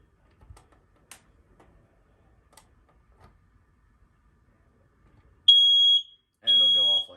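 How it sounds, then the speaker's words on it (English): Household smoke alarm set off by its test button, giving two loud piercing electronic beeps after a few soft clicks and handling taps. "To test these alarms, generally there's a button on there that says push to test or test."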